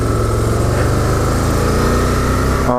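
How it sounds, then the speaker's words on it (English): The engine of a 2012 Can-Am Spyder RS-S three-wheel motorcycle drones steadily and close up while riding on the road, a continuous loud hum that cuts off abruptly at the end. "we're on a 2012 Can-Am Spyder"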